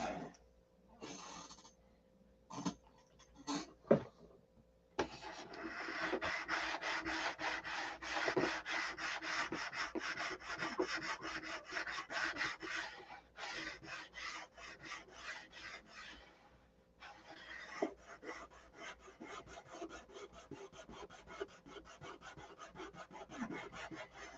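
Something is ground off on a 5,000 grit abrasive, with close rasping strokes repeated in quick succession, broken by a few short pauses before long continuous stretches of rubbing.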